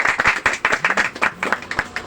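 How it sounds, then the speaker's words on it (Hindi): A seminar audience applauds, a quick, loud burst of many hands clapping in a steady rhythm, filling a short stretch with no talk over it. "बहुत बढ़िया, जोरदार तालियां।"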